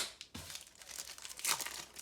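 Pokémon cards from a Ho-Oh Brilliant Legends premium box are pulled from their plastic packaging, with close crinkling and tearing and a sharp rip near the middle, and no talk.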